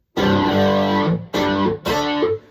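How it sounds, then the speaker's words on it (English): Distorted guitar tones from a Kemper amp, three sustained, heavily saturated chords or notes separated by brief gaps, loud and close with no speech. "A distortion. There's a different kind of distortion."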